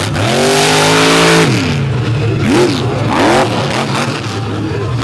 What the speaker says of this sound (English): He's going to run this thing till it won't go anymore.